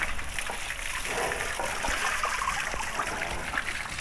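Water poured and splashed over a buffalo during bathing in a village, a continuous loud rushing and trickling flow with small splashes throughout, close by, with no talk.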